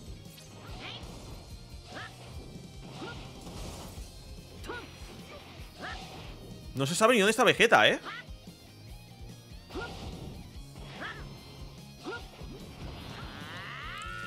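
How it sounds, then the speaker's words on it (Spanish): Glass windows of a building shattering during Dragon Ball: Sparking Zero gameplay, one loud crashing smash with scattering shards lasting about a second, set amid game effects while someone talks excitedly throughout. "Está destrozando los cristales."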